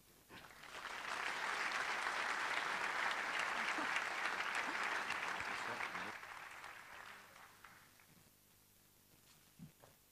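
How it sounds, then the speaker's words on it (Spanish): A seated audience at a talk on education and collective activism gives steady applause that builds, holds for about six seconds and then fades to scattered claps and room noise; it sounds fairly distant. "Otro aplauso, por favor, para Hanna."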